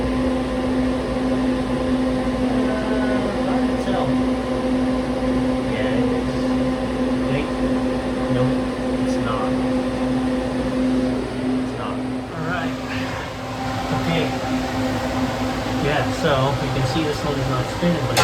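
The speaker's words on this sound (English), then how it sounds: "Looks like our blade is hitting something. Yeah, I can feel the motor buzzing." A salvaged, failing fan motor spins up with a steady, loud electrical hum and buzz while its blade catches on something, with people talking over the drone throughout.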